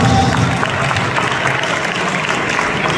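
Steady applause from an audience at a debate event, a dense broadband patter of many hands clapping at fairly close range, with faint murmuring mixed in.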